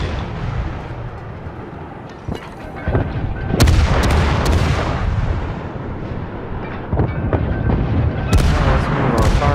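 Warship guns fire in the naval video game World of Warships, with a few sharp booming salvos followed by a heavy rumbling roar and more loud blasts later, close and prominent without talk.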